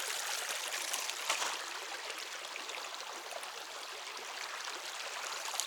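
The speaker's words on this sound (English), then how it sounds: "There's some really a bunch of water comes down through here." A stream runs down a trail, its water rushing in a steady, broadband wash that stays fairly faint and even throughout, with no talk over it.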